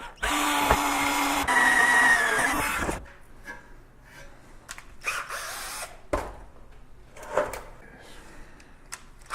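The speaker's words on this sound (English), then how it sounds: "The reason I'm using a small drill is to get the hole started" A small power drill whirs loudly for a few seconds drilling a starter hole in a motorcycle dolly, then stops, followed by scattered clicks, knocks and handling noises.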